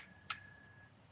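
A small bell gives one quick, bright ding that rings on and fades over about a second, fairly soft in a quiet room during a paranormal investigation in historic Williamsburg, Virginia.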